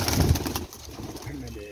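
Rooftop pigeons coo in low, throaty murmurs close by, with a soft rustle of wings and movement in the loft around them.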